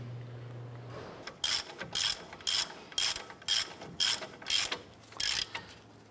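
Ratchet snugging down hub assembly bolts on a 2011-2018 Ram 1500, eight or so evenly spaced clicking strokes in a steady rhythm, close and fairly clear with no talk.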